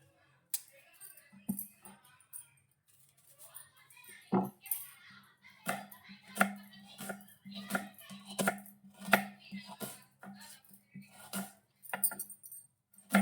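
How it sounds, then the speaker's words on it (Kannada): A knife chops onion on a board in sharp, uneven strikes, sparse at first and then quicker and denser, with a voice speaking faintly underneath. "ಈಗ ಈರುಳ್ಳಿ ಹೆಚ್ಕೊತಾ ಇದ್ದೀನಿ."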